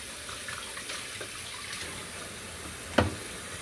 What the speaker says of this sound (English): I'm going to wash my hands and wash this fork